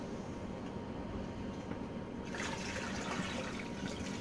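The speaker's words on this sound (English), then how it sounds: "Oh, here comes another thing of water." Water is poured into a cooking pot of onions, carrots and celery, a faint continuous trickle that swells into a fuller splashing stream partway through, heard close under a steady background hiss.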